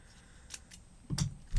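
Scissors trimming paper flowers for a scrapbook layout make a few quick, faint snips, close by and quiet, ending in a louder, muffled rustle.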